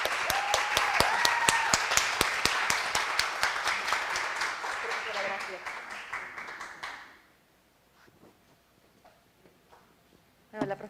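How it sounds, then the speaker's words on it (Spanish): An audience in a lecture setting applauds a professor, a full round of dense clapping with a few whistle-like tones over it, dying out about two-thirds through before a brief sound returns at the close. "Yo creo que merece un aplauso de nosotros."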